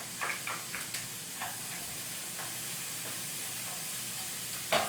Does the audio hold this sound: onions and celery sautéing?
yes